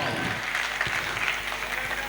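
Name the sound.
audience applause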